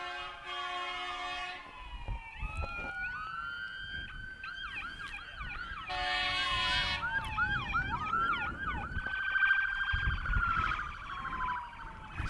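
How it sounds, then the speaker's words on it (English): Wailing, sweeping siren from an ambulance leaving a nearby station beyond center field at a Haysville Aviators baseball game, rising and falling loudly over steady ballpark background noise with several overlapping tones. "we do have an ambulance station right beyond center field, so you will hear that frequently"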